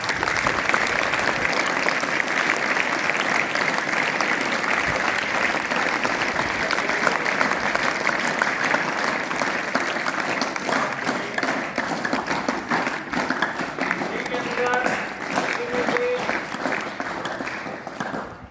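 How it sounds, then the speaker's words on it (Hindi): Loud applause for a student at a school results announcement, a long dense burst of clapping from a crowd that stays strong and steady for nearly twenty seconds before tapering at the end. "जोरदार तालियों के साथ"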